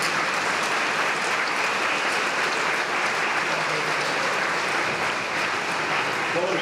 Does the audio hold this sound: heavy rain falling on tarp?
no